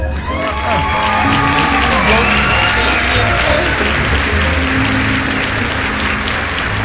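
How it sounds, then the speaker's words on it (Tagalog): An audience at a stage magic show bursts into loud, sustained applause mixed with cheering and shouts, a dense crowd roar with hands clapping throughout and some voices rising above it. "Pumapalakpak, sumisigaw."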